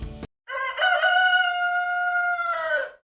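A single loud rooster crow rings out clearly, a long drawn-out cock-a-doodle-doo after a brief click, with nothing else around it.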